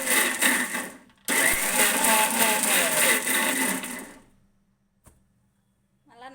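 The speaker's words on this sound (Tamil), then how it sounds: "இப்படி மிக்சர் ஜாரில் நம்ம போட்டுக்கிறோம். போட்டுட்டு இப்போ நம்ம அரைக்க போகிறோம்." A kitchen mixer grinder blends pomegranate seeds into juice with a loud, high whirring whine that runs, stops briefly, starts again, then cuts out into near silence before a short final restart.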